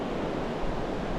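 Ocean surf and gusting wind on the beach at Cayo Cruz, Cuba, a dense, constant roar of breaking waves with wind buffeting the microphone, no talking.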